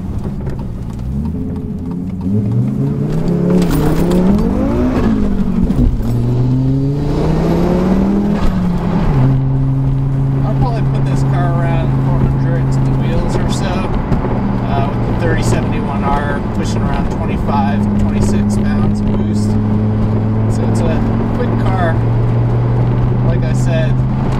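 A heavy Audi urS4 with a boosted engine pulls hard from a standstill, its engine note climbing through quick gear changes and then settling into a steady, loud drone, with someone talking over it throughout.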